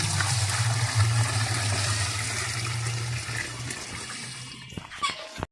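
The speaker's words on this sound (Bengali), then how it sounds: "ছোট ভাই সালমান এবং সাকিব পানি তুলতেছে, আর আমি ক্যামেরা ধরতেছি। প্রাচীন কুয়া।" Water being hauled up from an old village well, heard as a steady, close rush of pouring and splashing that carries on without a break and with no talk over it.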